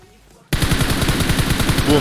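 A loud burst of rapid automatic gunfire in the PUBG Mobile video game erupts suddenly after a brief near-silence and hammers on continuously.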